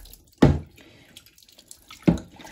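Water from the full tank of an Electrolux 8 kg tumble dryer is poured out into a sink in two short splashing bursts, with quiet dripping and trickling in between.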